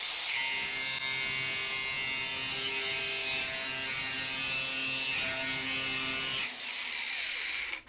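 A DeWalt grinder cutting through material: a loud, continuous high-pitched whine with a gritty edge that holds steady for several seconds, then cuts off abruptly.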